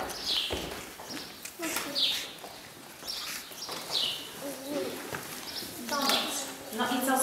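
Several birds chirp and call outdoors in short bursts, some high and bright, others softer, with faint distant background noise.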